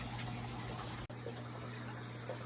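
Aquarium water drains steadily from a frag tank through a pipe, a constant near gushing flow with a low pump hum and one brief cut midway, no talking.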